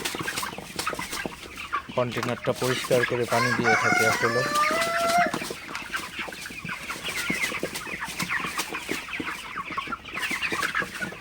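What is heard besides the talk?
broiler chickens clucking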